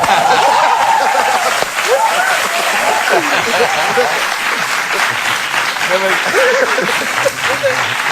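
Studio audience applause for an exclusive reveal on a late-night Portuguese talk show, a dense, steady clapping that runs the full length with scattered laughter and chatter mixed in.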